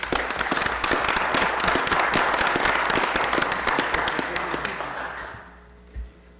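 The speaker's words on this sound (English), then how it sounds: "we would recognize his service with a little round of applause" Applause fills a county board meeting room, a dense crowd clapping steadily before tapering off and fading out toward the end.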